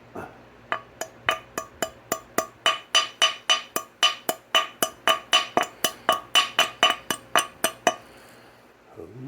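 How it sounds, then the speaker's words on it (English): A hammer taps on a seized 1979 Vespa P200E Piaggio scooter engine during a teardown, about two dozen bright, ringing metallic strikes in a quick, even rhythm, close and loud, then stopping. "I say I whack it with a hammer and see what happens"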